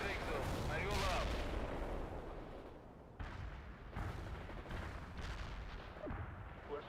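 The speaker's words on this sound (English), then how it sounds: "Artillery strike on our target now." Artillery strike explosions in World in Conflict roll in as heavy, booming blasts, a dense loud barrage with sharp new impacts every second or so over a continuous rumble, and talk running under them.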